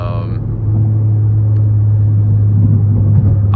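Modified 2022 Acura ILX A-Spec idling with a deep, steady exhaust drone and low rumble held close and loud throughout, a brief voice at the very start and end.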